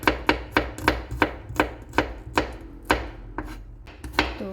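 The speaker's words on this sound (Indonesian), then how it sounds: "saya juga mau iris bawang putihnya" Knife chopping garlic cloves on a cutting board in a home kitchen, roughly a dozen crisp, evenly spaced cuts close to the listener, with a low background hum and no talking.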